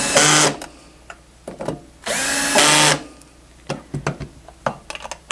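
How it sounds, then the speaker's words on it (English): Screw gun on a low torque setting driving a screw while rebuilding a TITAN manifold, two short loud whirring bursts with rising and falling pitch, separated by clicks and handling noises. "I'll take in your screw gun again on low torque setting"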